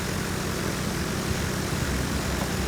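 Propeller airplanes in the video game Mouse: P.I. For Hire fly away with a loud, continuous engine roar that fills the whole moment.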